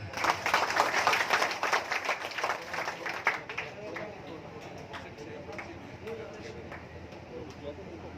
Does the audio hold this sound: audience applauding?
yes